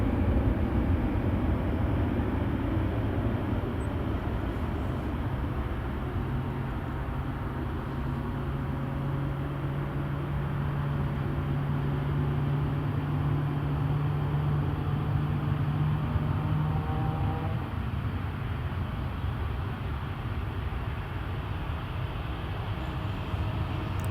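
A KLM airliner at Newcastle International Airport gives off a steady, broad jet roar at a distance, holding evenly for over twenty seconds with a faint rising tone partway through and no talk.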